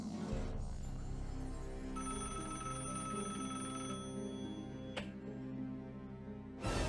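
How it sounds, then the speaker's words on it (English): A telephone rings in the Kremlin in 1948, sounding as a steady electric bell tone with harmonic overtones. Faint clicks and a low hum run beneath it, and no voices are heard. "the phone in the Kremlin rang"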